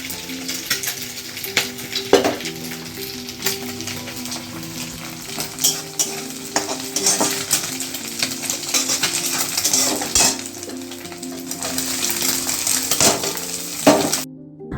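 Rice fries with onion in a pan, a steady close sizzle broken by frequent metallic scrapes and clinks of a spoon stirring against the pan, with no voices.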